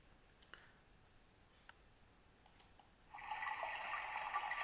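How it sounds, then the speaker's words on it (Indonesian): River water flowing, a steady broad wash that rises abruptly to a loud, continuous rush partway through, with a few faint ticks beforehand and no voices. "Ini adalah suara dari air yang terdapat di sungai."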